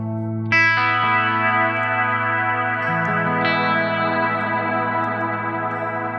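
A clean guitar tone through an amp modeler set to a Hiwatt clean channel rings out as sustained, chiming chords with bright harmonics, effects-laden with chorus and echo, played alone at steady volume for several seconds.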